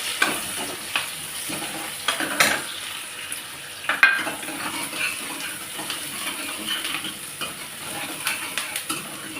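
Chopped onions frying with cumin seeds in a hot pan, a steady close sizzle under occasional spoon scrapes and clinks against the metal as they are stirred.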